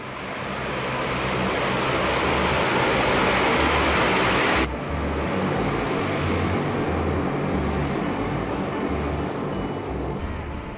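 A Super Guppy cargo aircraft, an outsized transport that carried the Orion spacecraft heat shield in a shipping container, roars loudly and continuously with a broad propeller-engine drone and a steady high whine.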